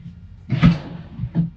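Inside an RV, a drawer slides open with a short rumbling scrape and a soft thump, followed a moment later by a lighter knock, close and fairly quiet.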